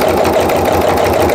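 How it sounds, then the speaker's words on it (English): A sewing machine runs steadily, stitching a diagonal line across a scrappy Christmas tree mug rug, its continuous motor whir loud and close without pause. "I'm just going to stitch diagonally across"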